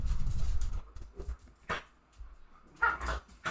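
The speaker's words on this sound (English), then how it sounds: "The dogs are fighting." Dogs fighting in a film scene, with loud growling and snarling at first, then a sharp yelp and scattered barks and whimpers, all close and harsh.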